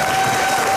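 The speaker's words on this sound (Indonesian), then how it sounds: "Boleh tepuk tangan buat Mas Adi." A studio audience on an Indonesian TV talk show applauds with a brief, loud burst of crowd clapping and faint cheering.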